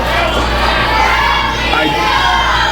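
Loud, dense crowd roar at an indie pro wrestling last man standing match, a sustained wall of shouting and cheering from a packed audience, close and continuous.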